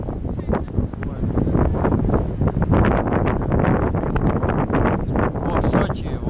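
Steady, loud wind buffeting the microphone on a beach at the Sea of Azov, a continuous roaring rush with gusty swells and no clear voices.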